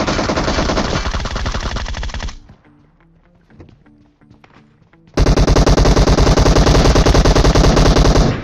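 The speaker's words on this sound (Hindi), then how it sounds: "लेकिन तभी पीछे से फायरिंग आती है" Rapid automatic gunfire rattles loudly in long bursts, breaks for a few seconds of scattered distant shots, then resumes even louder and continuous.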